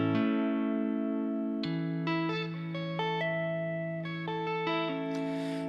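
Electric guitar notes ring out one after another, finger-tapped on the fretboard in a math rock style over a held lower note, clean and sustained with a soft effect shimmer.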